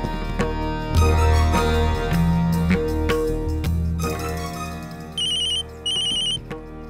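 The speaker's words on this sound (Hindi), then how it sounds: "माँ, घर से फोन है।" A phone rings with a call from home, a loud melodic ringtone playing up close over a dense musical backdrop, ending in two short bright repeated chirps.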